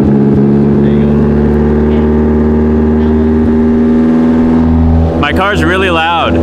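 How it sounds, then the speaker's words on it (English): A loud Toyota AE86 engine idles high, around 2,000 rpm, in a constant droning hum with a strong low tone; a voice comes in over it near the end. "My car's really loud and it idles at 2 grand for some reason."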